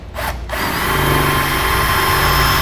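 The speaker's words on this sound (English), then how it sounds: "I'm just using a 13/64 drill bit, and that's going to be just large enough to get our studs through." A power drill bores a hole with a 13/64 bit while fitting an LED trailer license plate light, a loud steady whine that follows a short start-stop at the beginning and then runs continuously, close up and alone.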